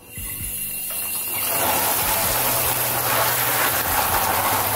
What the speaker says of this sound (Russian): Со шланга бежит вода.